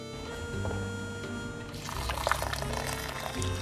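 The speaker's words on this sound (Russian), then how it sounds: "и заливаем все горячей водой." Hot water pours steadily into a pot of salted rice, a splashing, gurgling stream that grows fuller partway through, close by with no talking.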